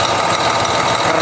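A Scania K410 engine in a Sudiro Tungga Jaya coach runs with a continuous, loud, even rumble and mechanical hum, heard close up.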